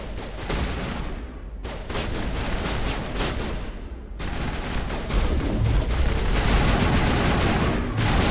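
Rapid, dense assault rifle fire in Mass Effect Legendary Edition, sustained bursts with a couple of brief pauses, loud and close.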